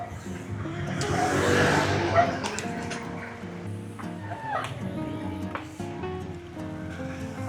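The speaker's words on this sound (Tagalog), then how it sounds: "Traffic." Road traffic passes a cyclist on a bike ride. A nearby vehicle whooshes past loudly early on, then engines hum and rumble steadily over the road noise.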